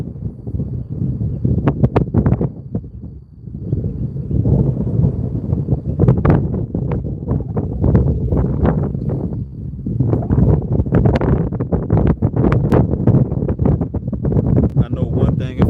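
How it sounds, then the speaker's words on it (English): Strong wind blowing outdoors on a roadside, roaring and buffeting the microphone loudly and continuously, with a brief lull partway through. "Now that wind is picking up."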